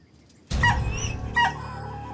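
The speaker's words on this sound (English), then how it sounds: "20 minutes later, Billy's wife heard the dog barking." A dog gives two short, sharp yipping barks close by, the first after a brief quiet lead-in and the second a moment later, in a dramatized crime documentary scene.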